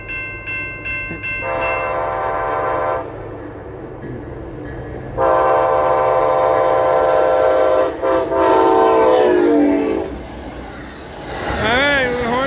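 A massive Amtrak train sounds its horn in a salute at Palatka, Florida, with two long, loud blasts of the chord horn over steady rolling rail noise, ending in a rising squeal.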